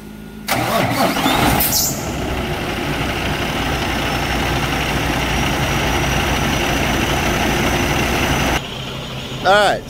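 Cummins ISX diesel truck engine cranking and firing up after its fuel lines were replaced, then settling into a steady loud idle rumble for several seconds before a brief change at the end.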